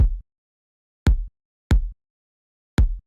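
Four punchy kick drum hits with a separated, sharp transient click on top of a deep low thump, spaced unevenly with silence between, dry and alone.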